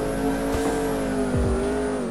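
A McLaren Sabre with a 4.0-litre twin-turbo V8 roars in Roblox Car Dealership Tycoon, holding a loud, steady engine drone with brief dips like quick gear shifts.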